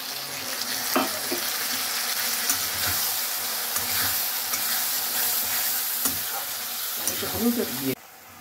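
Steady sizzling of a ginger, garlic and green chilli spice paste frying with onions in a pan, with occasional stirring scrapes and clinks, continuous and fairly loud throughout.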